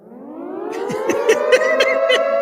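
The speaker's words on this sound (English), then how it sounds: "Go ahead and sound the siren on that one, buddy." A siren sound effect on a sports radio show rises in pitch and holds a loud, wailing tone for a couple of seconds, with no voices.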